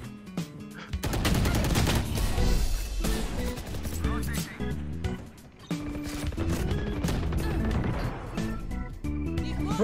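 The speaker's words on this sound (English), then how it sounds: "Dodging bullets here." Video game gunfire crackles in dense, rapid bursts of loud shots and sharp impacts that repeat throughout, with only brief lulls and nearly continuous noise.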